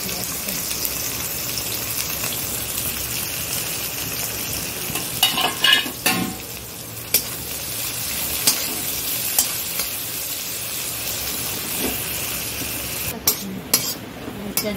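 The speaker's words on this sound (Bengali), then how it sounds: "পেঁয়াজটা আরেকটু ভাজা হবে।" Onions sizzle steadily in a hot pan of leftover egg-frying oil, with occasional scraping and stirring clatter from a utensil; no talking.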